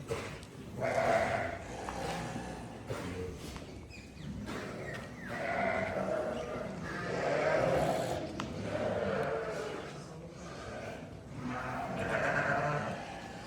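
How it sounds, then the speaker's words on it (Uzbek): A flock of rams bleats in repeated calls at a livestock yard, the bleats rising and falling over several seconds beneath people talking nearby. "Mana qo'ylar qaranglar qancha."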